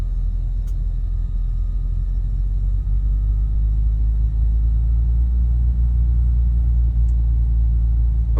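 A Bonanza Professional aircraft taxiing toward the runway in a flight simulator video game, its engine a steady low rumbling drone heard alone and fairly loud throughout.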